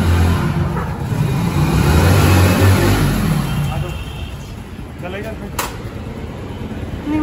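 A car engine swells loudly at close range as the vehicle pulls away, then eases to a lower, steady hum, with a short sharp click partway through.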